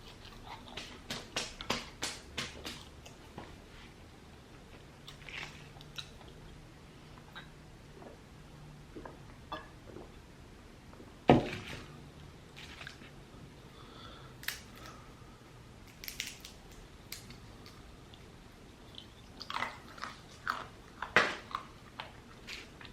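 Someone eats Five Guys fries and peanuts alone: scattered close crunches and chewing clicks come in irregular bursts, with quiet pauses between bites.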